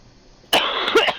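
A woman coughs in a short harsh burst of two or three rough coughs, loud and close, after a moment of near silence.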